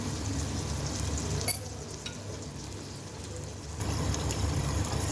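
Asafoetida fries in hot oil for a village-style rasam, giving a steady, close sizzle like light rain. The sound eases briefly in the middle and then comes back, with no talking.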